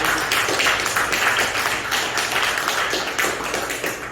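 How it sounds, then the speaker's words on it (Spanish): A church congregation claps and applauds together, a dense, continuous patter of many hands that stays steady throughout. "Un aplauso al Señor."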